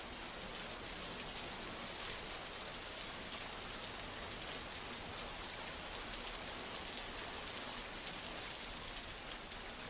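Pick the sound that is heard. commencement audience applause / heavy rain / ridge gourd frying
heavy rain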